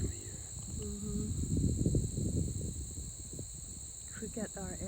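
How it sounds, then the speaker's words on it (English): Crickets chirp on a morning nature walk, a steady high-pitched chirring that runs throughout, with low voices murmuring beneath it and a few brighter insect calls near the end. "Cricket are everywhere"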